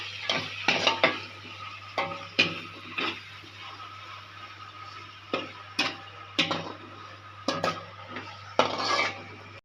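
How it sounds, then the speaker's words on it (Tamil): Onions and garlic being sautéed in a pan: repeated close clanks and scrapes of a utensil stirring against the metal come in irregular bursts over a faint background sizzle, with no talking. "இப்போ நல்லா வதக்கிக்கலாம்."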